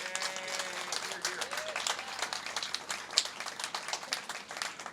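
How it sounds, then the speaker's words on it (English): Audience applause for Michele at a panel of second-generation Shoah legacy writers, with dense, steady clapping from a crowd filling the whole stretch, a single sharper clap standing out near the end. "let's give Michele a round of applause"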